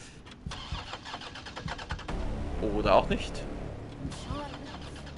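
A car engine cranks and starts in the game Resident Evil 3, then idles and revs at mid pitch, with a German-speaking voice talking over the engine.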